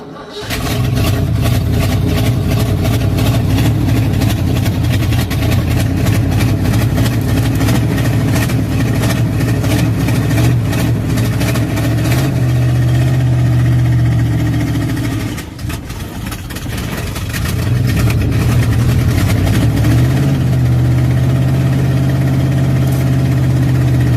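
A small engine started without the choke, running at a steady idle in falling snow. It stays loud and continuous throughout, with a brief dip in the middle before the idle settles back to an even hum.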